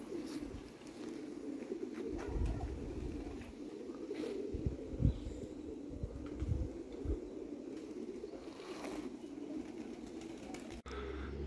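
Pigeons coo softly in a village loft, low murmuring calls rising and falling over a steady background hum, with a few brief sharper knocks and rustles.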